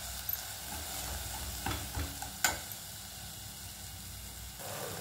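Onion and tomato sautéing and being stirred in a pan for a drumstick stem soup, giving a steady close sizzle with a few sharp spoon scrapes and clinks, no talking.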